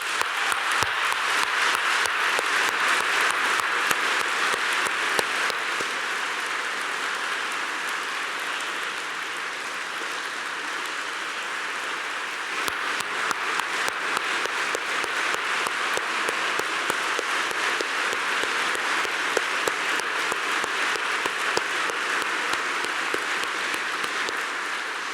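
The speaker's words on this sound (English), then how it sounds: "Please join me in a round of applause" An audience at an awards ceremony gives sustained applause, a dense, even roar of many clapping hands that holds steady for the whole stretch with no voices.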